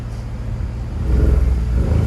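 A 2017 Ford F-150 with EcoBoost V6 and a Dynomax Race Bullet exhaust revs up close, a deep idle rumble swelling into a louder, throaty surge midway before easing slightly, with no talk over it.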